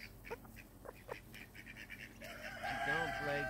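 Hens clucking on a homestead near a flock of ducks, with several short close calls and then a louder run of squawking that ends in a drawn-out crow-like cry, with faint talk underneath.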